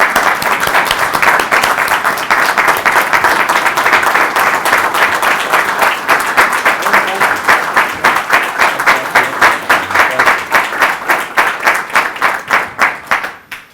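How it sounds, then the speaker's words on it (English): An audience at a Fayette CDBG announcement event applauds continuously, dense clapping that holds steady and then thins out toward the end. "let's give him a big round of applause"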